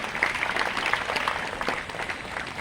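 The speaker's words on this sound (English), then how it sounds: "Please give a huge round of applause for our esteemed guests who arrived from far and wide." An audience applauds guests at a school Silver Jubilee celebration of a priest's priesthood, a steady wash of scattered clapping from a moderate distance that carries evenly through the moment.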